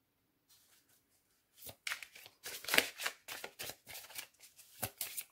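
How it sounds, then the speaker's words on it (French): Tarot cards are shuffled and drawn in a quiet room, a run of soft papery riffles and flicks coming in quick irregular bursts after a brief silence, close and fairly gentle. "on va tirer une dernière carte."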